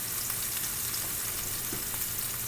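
Steak sizzles and fries in a hot pan in a steady, dense crackle that runs throughout at moderate loudness, with no voices.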